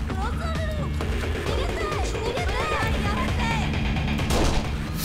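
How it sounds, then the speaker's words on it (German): Gunfire in the shooter game Kane and Lynch: Dead Men, sharp shots cracking through a dense crowd scene amid busy game noise and music, with a voice talking over it. "Wieder ein Schuss durch die Menschenmenge."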